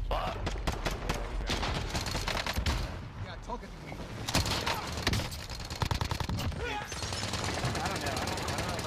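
Rapid bursts of video game gunfire, dense automatic fire and sharp shots crackling almost continuously, with excited player voices talking over the fighting.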